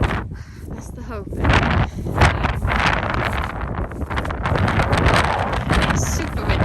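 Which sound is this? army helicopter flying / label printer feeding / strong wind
strong wind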